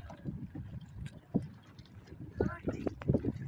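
A kayak is paddled through the Alappuzha backwaters in Kerala, with soft irregular splashes and wind buffeting the microphone, while a voice talks over it up close.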